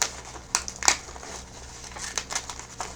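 Packing tape is tugged off a small package of Indian Head pennies, giving close, sharp crinkling rips and crackles in short bursts over a quiet background.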